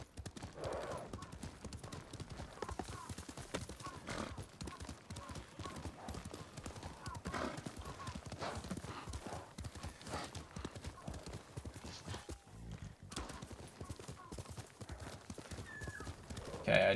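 Hooves of Kage, a horse in the Ghost of Tsushima video game, clip-clop in a steady rhythm throughout, with an occasional whinny and someone talking over the top.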